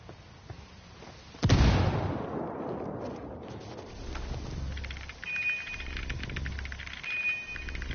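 A grenade explodes in the Ghost Recon Wildlands 4v4 Ghost War multiplayer mode, one loud, sharp close blast with a long rumbling decay, followed by quieter game ambience and low thuds.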